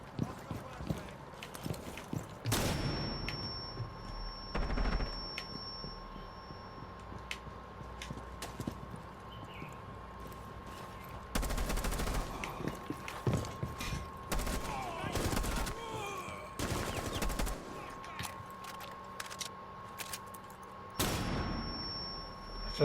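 Bursts of rapid gunfire from the Jackal primary weapon in a video game on the Terrastan map, loud clustered volleys separated by pauses, with game effects and a voice talking throughout.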